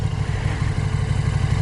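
A KTM Super Duke 1290R motorcycle engine idles as it is parked, a steady close, loud low rumble with a pulsing throb and no rise in revs.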